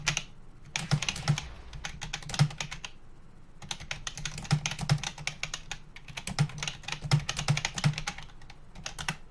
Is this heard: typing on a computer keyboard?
yes